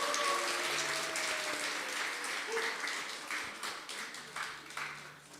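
A church congregation bursts into loud, sustained applause during a Sunday worship service, the clapping continuing for several seconds before gradually thinning out.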